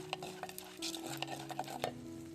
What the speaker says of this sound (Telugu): ఎండుమిరపకాయలు కూడా వేసుకోవాలి ఉల్లి రెబ్బలు వీటిని బాగా ఫ్రై చేసుకోవాలి